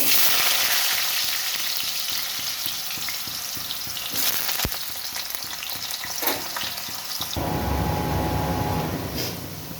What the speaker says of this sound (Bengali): সর্ষের তেল পরিমাণ মতো আলুগুলো ভেজে নেব